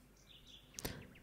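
A short synthetic bird-song effect in a radio weather jingle: thin high chirps and whistles followed by a sharp swoosh-like burst, brief and fairly faint.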